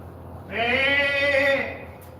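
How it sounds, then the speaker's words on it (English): A goat next door gives one long, wavering bleat lasting about a second, clear but somewhat distant, over a quiet outdoor background. "Oh, the goat's next door. I hear a goat."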